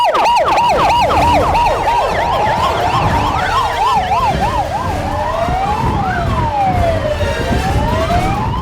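Several ambulance and emergency vehicle sirens wail at once during a safety drill, wavering and overlapping with yelping and rising-falling tones, loud and close, with traffic rumble underneath.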